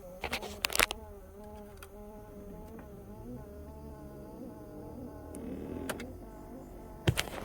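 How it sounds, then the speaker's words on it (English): A continuous droning hum with a wavering tone runs throughout, punctuated by several sharp clicks and clatters; no one speaks. "Wow, that HVAC's making a ton of noise."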